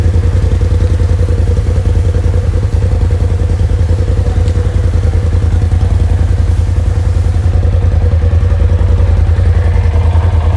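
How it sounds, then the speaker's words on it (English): A fully built desert race car's engine idles loud and close, a steady pulsing rumble with fast rhythmic clatter running through it. "Full built race car, man."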